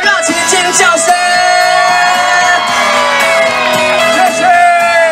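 Enthusiastic crowd shouts and whoops at an outdoor Taiwanese-language pop music night at Xiangshan Tianhou Temple in Hsinchu, sustained and loud beneath ringing musical tones throughout.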